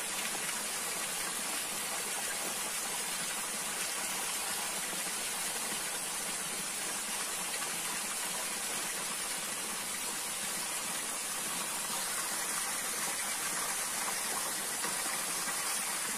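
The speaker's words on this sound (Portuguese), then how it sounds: "Uma cachoeira beirando a estrada," Small roadside waterfall near Franca, São Paulo, a steady, dense rushing hiss of falling water that stays loud and unbroken throughout, with no voices.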